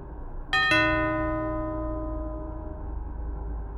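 A doorbell rings: two quick bell-like chimes one after the other, then a clear metallic tone lingers and slowly fades in a quiet room.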